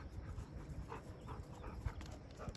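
Dog panting and whimpering close by, quick soft breaths with faint whiny tones over a quiet background.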